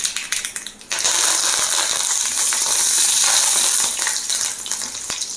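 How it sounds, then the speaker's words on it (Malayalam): Mustard seeds splutter in hot oil as dried red chilies and curry leaves go in, a loud close sizzle that swells after a short quieter start, dotted with sharp pops and crackles. "കടുക് പൊട്ടി അതിലേക്ക് രണ്ട് വറ്റൽമുളക് ഇട്ട് കൊടുക്കാം രണ്ട് കരിയേപ്പിൻ്റെ ഇട്ട് കൊടുക്കുക"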